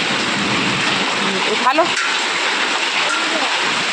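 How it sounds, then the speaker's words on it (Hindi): Hailstones fall during a fierce storm, a dense, constant hiss and patter like heavy rain close by, with a person talking briefly over it. "ये देखो ओले गिर रहे हैं।"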